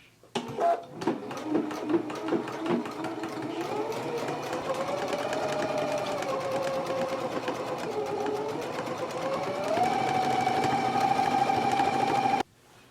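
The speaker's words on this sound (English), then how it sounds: "now we can go to the machine and stitch it in a 3/8 of an inch seam allowance" A sewing machine stitches a jacket seam from a Simplicity pattern: a close, continuous mechanical whirr for about twelve seconds that rises slightly in pitch near the end, then stops abruptly.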